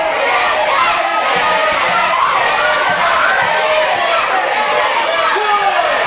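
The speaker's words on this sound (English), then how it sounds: "I've never heard the crowd so high until now" A loud wrestling crowd roars continuously at a Halloween-themed indie show, the dense cheering and shouting sustained at high level throughout without letup.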